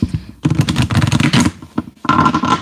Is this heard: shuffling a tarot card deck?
yes